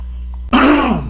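After a brief quiet, someone clears their throat once, close and loud, in a harsh rasping burst that fades out.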